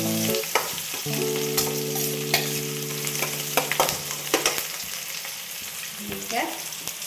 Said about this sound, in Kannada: ಒಂದು ಮೆಣಸಿನ ಹಣ್ಣು ಇಷ್ಟು ಸ್ವಲ್ಪ ಫ್ರೈ ಮಾಡೋಣ ಚೆನ್ನಾಗಿ